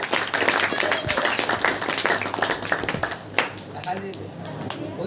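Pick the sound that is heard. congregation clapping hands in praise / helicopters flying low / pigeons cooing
congregation clapping hands in praise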